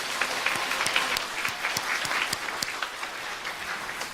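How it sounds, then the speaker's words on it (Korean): A congregation at a Korean Won-Buddhist service gives the choir a hearty round of applause, a dense, sustained wash of clapping that fills the hall at steady volume. "우리 성가대를 위해서 힘찬 박수 한번 보내주시기 바랍니다."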